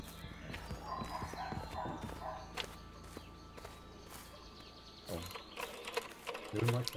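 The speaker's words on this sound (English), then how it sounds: "let's just hope these horses keep running" Horses gallop in the video game A Way Out, their hooves a fast clip-clop rhythm alongside mechanical clatter, with quiet talk in the background.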